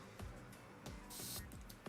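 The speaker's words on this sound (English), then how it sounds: "Sprays a big amount of mist, fine mist." Several quick spritzes from a bottle of Luxodor Alga perfume, short airy puffs of fine mist in an uneven rhythm, close by.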